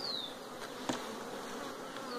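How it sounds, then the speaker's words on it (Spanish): Honeybees buzzing around an open hive during colony inspection, a soft, continuous drone with individual bees flying close past, faint overall and free of talk. "Necesitamos abejas acá."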